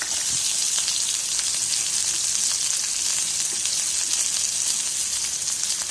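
Sliced onions and curry leaves sizzle steadily in hot oil for kothavarangai aviyal, a close, even crackle with no one speaking.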